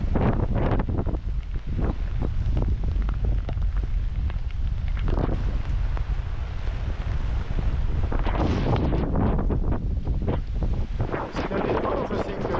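Strong wind buffets a sailboat far out on the open ocean, gusting at around 15 knots during stormy weather, roaring steadily and loudly against the microphone with surges throughout.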